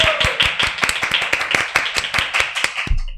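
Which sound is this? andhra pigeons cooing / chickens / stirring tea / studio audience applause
studio audience applause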